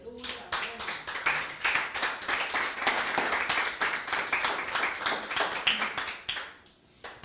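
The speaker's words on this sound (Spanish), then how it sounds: "Dale un aplauso a la palabra." A church congregation claps during a Spanish-language sermon, a dense run of hand claps lasting several seconds with voices calling out over it before it tapers off.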